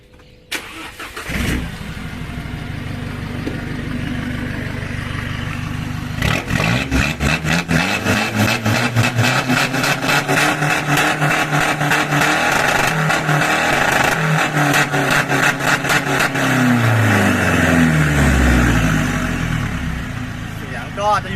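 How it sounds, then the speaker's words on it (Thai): A turbocharged 1.9 Blue Power diesel engine idles with a steady exhaust rumble, then revs repeatedly in rising and falling bursts. The engine is loud and close, and a voice speaks over it briefly. "รับประกันได้ว่าเสียงท่อจะดุหน้าขับกว่าเดิมแน่นอน"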